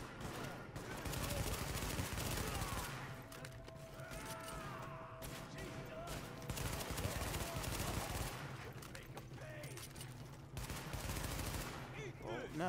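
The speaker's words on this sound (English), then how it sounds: "He's taking heavy fire from the roof." Sustained gunfire in Tom Clancy's The Division, a dense rattle of automatic bursts running throughout, with voices talking over the shooting.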